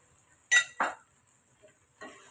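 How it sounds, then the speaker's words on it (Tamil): A spoon scrapes and clinks twice against a pan while stirring semiya tomato kichdi, followed by a softer scrape, in an otherwise quiet kitchen. "இப்போ நம்ம இதை கிண்டி விட்டுக்கலாம்"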